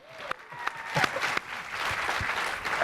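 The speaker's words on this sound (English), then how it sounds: "Can we get an applause for commas?" An audience at a cruise industry conference session applauds. The clapping starts as a few scattered claps and builds into steady, moderate applause from a crowd in a hall.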